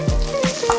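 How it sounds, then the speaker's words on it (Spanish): Red prawn heads, innards and shells sizzling as they fry in a paella pan to enrich a stock, a steady close crackle with faint tonal overtones. "sofreír todos los interiores y las pieles de la gamba"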